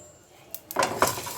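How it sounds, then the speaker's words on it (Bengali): Dry red chilli and five-spice being stirred and roasted in a pan: a quiet start, then a few sharp metallic scrapes and clinks of a spoon against the pan, close up. "এবার এটাকে আমি নাড়াচাড়া করে ভেজে নেব"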